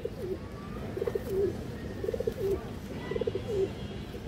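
Black-tailed pet pigeons coo in repeated low rolling phrases, about four bursts spaced roughly a second apart, close by over a soft background hum.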